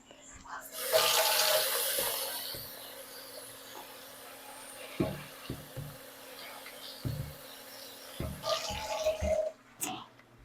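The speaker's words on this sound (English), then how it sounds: "then we're going to top these off with some water. Just barely cover them." Water poured from a tap onto dry soy curls coated in barbecue sauce, a steady rushing splash over the first few seconds, then fading into scattered clinks and soft knocks from a bowl.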